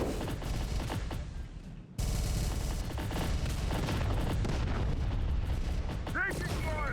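Heavy battlefield gunfire in the video game Terminator: Dark Fate Defiance, with dense rapid bursts and booming blasts packed together almost without pause, a brief dip before the barrage resumes, with voices calling out amid the din.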